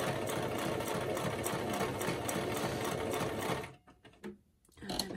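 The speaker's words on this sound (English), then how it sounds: "let's just do a little bit here, and a bit of a zigzag" A sewing machine stitching a zigzag on a recycled paper envelope runs as a loud, steady, close whir for about three and a half seconds, then stops and leaves a few small clicks and handling sounds.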